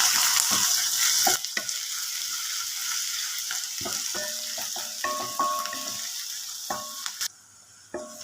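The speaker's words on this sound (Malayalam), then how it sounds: "ഇതിൻ്റെ കൂടെ തന്നെ കുറച്ച് കറിവേപ്പില ഇട്ട് ഇനി ഇതൊന്ന് ഇളക്കിയെടുക്കുക ഒന്ന് വാട്ടിയെടുക്കുക" Curry leaves sauté in a pan for a beef fry, with a bright hissing sizzle and repeated scraping stirs and clinks of a spoon; the sizzle drops away sharply near the end.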